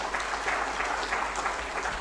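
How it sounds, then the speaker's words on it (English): An audience at a rural housing stakeholders' lecture in Busia gives a short burst of applause, a steady moderate patter of many hands with a low rumble of the room beneath and no speech. "we can give them a big round of applause"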